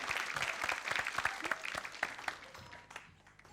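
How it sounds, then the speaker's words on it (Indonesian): A studio audience at a comedy and dangdut music show claps, with distinct, fairly quiet claps that thin out and fade toward the end, plus a faint voice. "tepuk tangan buat Bung Zeki"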